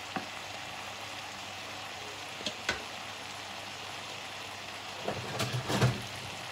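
Mixed vegetables with crispy pork stir-fry slowly in a pan, giving a quiet steady sizzle broken by a few soft clicks and scrapes of stirring that gather toward the end, no talking.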